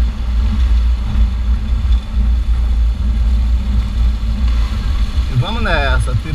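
A Suzuki GSX 1000cc motorcycle runs on a dirt road with a steady low engine drone throughout, rising in pitch near the end as it accelerates, while voices talk over it.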